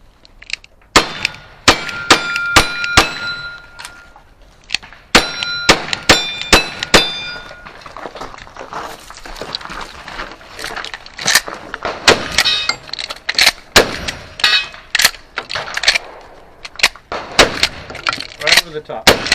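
Gunshots crack out in quick bursts at a cowboy action shoot, each followed by the ringing clang of bullets striking steel targets; loud, close and rhythmic, with brief pauses and faint voices in between.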